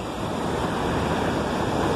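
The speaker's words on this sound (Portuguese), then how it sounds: "Cascata de água sobre os rochedos." Water from the Cachoeira Serra do Urubu waterfall in Piauí cascades over rocks in a steady, dense, broadband roar that holds unbroken throughout, with no voices.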